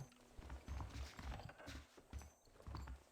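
Horse hooves clip-clop in a steady walking rhythm in the video game Red Dead Redemption. The hoofbeats are soft and fairly quiet, with no talking over them.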